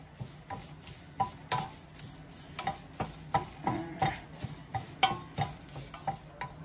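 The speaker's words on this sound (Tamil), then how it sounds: "முதல்ல கருவேப்பிலையை கொஞ்சம் நேரம் வறுத்துட்டு அதுலேயே பருப்பையும் போட்டுருவேன்." Curry leaves dry roasted in an empty pan for a homemade curry powder, heard as a steady run of scraping, rustling stirs, close and fairly quiet, with a regular rhythm of spatula strokes.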